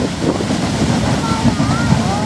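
Beehive Geyser in Yellowstone erupting, a steady roaring rush of gushing water and spray close by, a continuous broadband whoosh with wind buffeting the microphone and excited voices over it.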